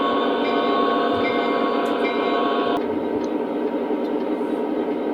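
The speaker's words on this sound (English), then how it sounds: "I can actually reverse the train going just by simply going through that crossing there." An O gauge model locomotive runs steadily along its track, a continuous rolling and humming drone with a slight shift in tone partway through, close and fairly loud with no talking.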